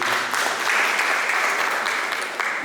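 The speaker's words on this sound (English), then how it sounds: "Round of applause" An audience at an accountants' lecture series event in Nigeria applauds, a steady, dense wash of many hands clapping together with no voices over it.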